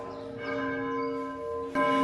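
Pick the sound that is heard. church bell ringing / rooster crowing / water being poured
church bell ringing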